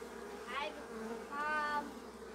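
Honey bees from an open hive give a soft, steady buzzing, with a couple of brief rising hums as individual bees fly close past, over faint background noise.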